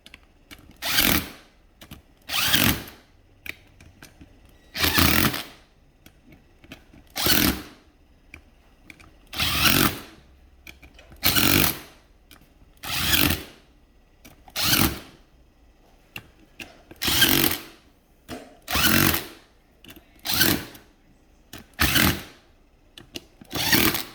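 A power impact tool cranks down the lug nuts on an off-road vehicle wheel in a cross pattern, giving about fourteen short, loud whirring bursts spaced by brief pauses, close up and with no talking.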